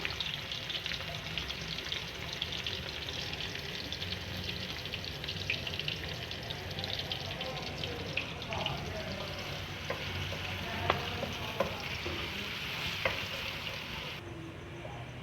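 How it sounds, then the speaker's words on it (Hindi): Chopped onions fry in half a cup of ghee, a continuous crackling sizzle at moderate level with scattered scrapes and clinks from the pan, no talking. "ये आधा कप घी और उसके अंदर ये प्याज डालेंगे।"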